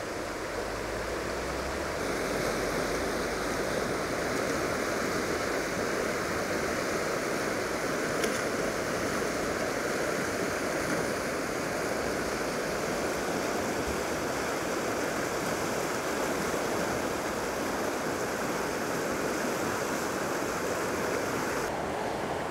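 Rushing white water of the Afon Glaslyn in the Aberglaslyn Pass roars continuously, a broad steady churn of rapids and falling water at the top of the falls, close and loud with no voices.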